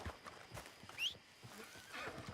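A horse neighs in Red Dead Redemption 2, a short rising whinny near the middle heard over soft hoof clops and quiet ambient farm sounds.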